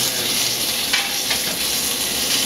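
Potstickers pan-fry and brown in a hot pan, giving a continuous loud, close sizzle with no breaks.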